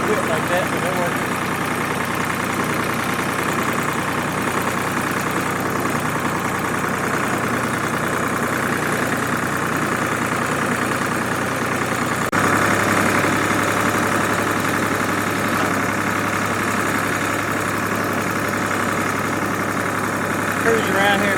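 A tractor engine runs at a steady idle, a constant mid-pitched rumble that shifts slightly lower and firmer about halfway through, with some faint background noise.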